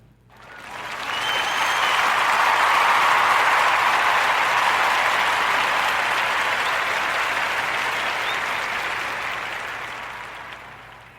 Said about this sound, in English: a warm narrative podcast round of applause for her 2 health and wellness facilities